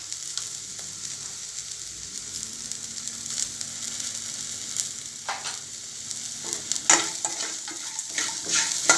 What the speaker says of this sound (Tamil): இப்போ நல்லா இது ஃப்ரை ஆகி வரட்டும்.